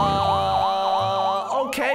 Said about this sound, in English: Okay, yeah, you definitely hear the sirens now.